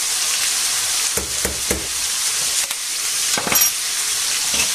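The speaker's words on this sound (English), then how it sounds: "And we'll fry this all up until it's nearly all brown" Pork and peppers fry with paprika in a pan, a constant close sizzle and hiss broken by several sharp scraping stirs, no talk.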